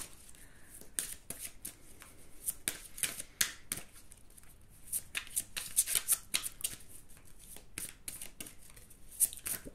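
Tarot cards shuffled and riffled by hand during a reading, a steady run of crisp flutters and soft slaps that repeats through the whole stretch, close and alone with no talk.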